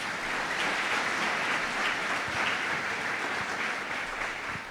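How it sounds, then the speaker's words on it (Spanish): A church congregation applauding during a sermon, a dense and sustained burst of clapping from many hands that stays even throughout, fairly loud and without speech. "Denle un aplauso a Él entonces por esa palabra"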